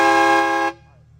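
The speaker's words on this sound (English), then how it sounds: "Yeah, that's train horn" A single loud, brassy train horn blast from a Jeep holds steady for under a second, then cuts off abruptly, leaving a low idling hum.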